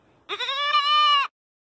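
A goat at a cider mill lets out one loud, close bleat lasting about a second, wavering and nasal, with silence around it.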